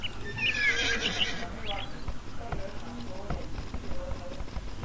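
Scout cavalry horse in the Age of Empires video game gives a loud, bright neigh near the start, followed by game sound effects and faint clip-clop hoofbeats.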